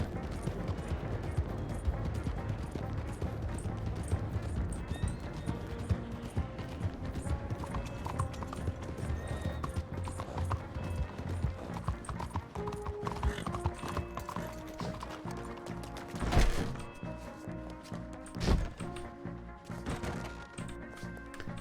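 Rhythmic hoofbeats of a galloping horse in the Western roleplay game RedM, set under a busy mix of game sounds and music, with a couple of sharp impacts near the end and faint voices in the background.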